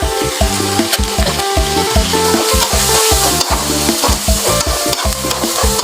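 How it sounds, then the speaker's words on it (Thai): A spatula works ingredients around a hot pan in a stir-fry, scraping and knocking in quick repeated strokes over a constant loud sizzle, close up and without talk. "ผัดคลุกเคล้าให้เข้ากันเลยนะคะ"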